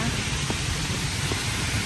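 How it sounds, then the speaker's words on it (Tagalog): Heavy rain during Typhoon Kristine in the Philippines, heard outdoors on a walk home amid strong wind: a dense, loud, steady roar of downpour with no break. "Malakas ang ulan, lumalakas talaga."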